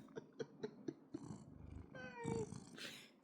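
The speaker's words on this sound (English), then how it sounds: "this cat." A pet cat purrs close by with a soft, continuous low rumble, broken by a few rhythmic taps early on and a brief louder rustle near the end.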